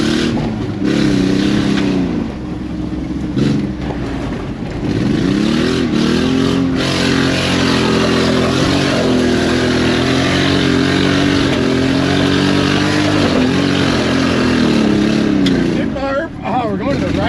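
A 2001 Nissan Pathfinder R50 yard truck's engine drones steadily while driving, its pitch rising and settling through light acceleration over a long stretch, with a person talking throughout.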